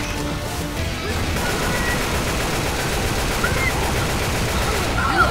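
Dense, loud gunfire and crashing impacts from a zombie fight in Left 4 Dead 2, a continuous chaotic barrage of shots and blasts with faint shouting mixed in.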